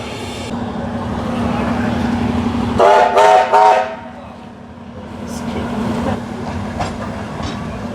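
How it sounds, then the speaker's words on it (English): A steam locomotive on a rainy day, with a loud burst of whistle blasts in the middle over a steady hissing, rumbling background of train noise. Fainter hisses and toots follow as the engine works. "we are all geared up to enjoy these bells and whistles of this steam engine."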